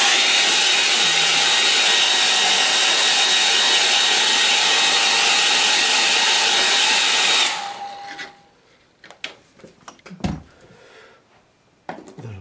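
Hair dryer blowing loudly and steadily on a watercolour painting for about seven seconds, then cutting off, followed by faint clicks and handling noises.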